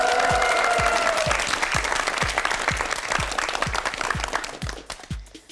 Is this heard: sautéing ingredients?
no